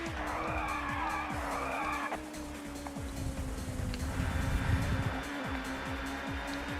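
Touring car engine drones steadily through a run of fast corners at Snetterton in the TOCA Touring Car Championship video game, with tyre scrub and a rising whine as the car holds flat out, loud and continuous.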